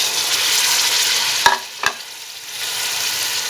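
Peas and carrots frying in a pan for vegetable pulao, a loud steady sizzle broken by two quick clinks of a spoon stirring, then the hiss settling back in.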